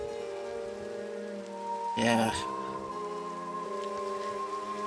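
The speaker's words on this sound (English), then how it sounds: "I assume everyone's gotten kind of caught up in the storm." Steady rain pours during a storm in Minecraft, a continuous soft hiss under sustained game music tones, with a brief spoken word from a person near the middle.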